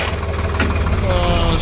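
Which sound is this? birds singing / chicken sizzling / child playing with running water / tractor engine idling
tractor engine idling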